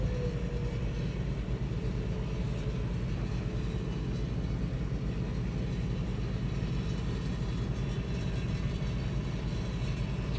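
A Lexus rolls out of soft campsite mud under gentle throttle, its engine holding a steady, close low rumble with a constant drone and no talk.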